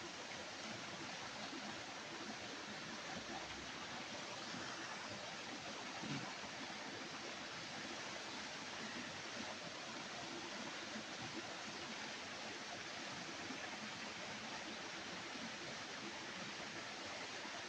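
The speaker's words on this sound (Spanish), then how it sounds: "Aquí les voy a mostrar una cascadita, miren." A small waterfall pouring into a pool inside a cave, a steady, even rush of falling water heard close and continuous throughout, with no voices over it.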